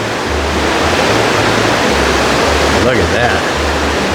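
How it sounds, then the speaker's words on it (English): A raging river near the Little Huson Caves on Vancouver Island roars as a loud, steady rush of broadband water noise throughout, with a brief spoken remark over it near the end. "River raging away there."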